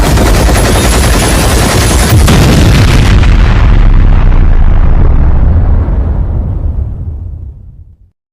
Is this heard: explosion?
yes